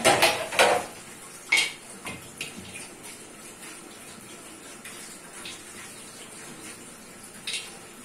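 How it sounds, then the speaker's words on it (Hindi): A metal pressure cooker lid is set onto a pot of mutton with cauliflower and cabbage curry, giving a few clanks and scrapes near the start and one later knock before the kitchen goes mostly quiet. "ठीक इन सब चीजों को ऊपर लिड लगा के प्रेशर कुकर की और प्रेशर कुकर देंगे"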